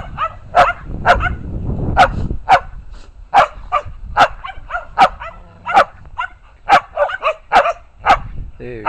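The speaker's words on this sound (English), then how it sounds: "what are you barking about?" A dog barks repeatedly in short, sharp bursts, some yips mixed in, with a person's voice talking intermittently between the barks.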